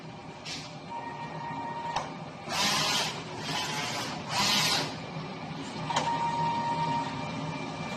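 A DTF printer runs a nozzle test, its print head making whirring passes interspersed with short mechanical clicks and bursts of sliding, scratchy motion, moderately quiet and nearby with no talking.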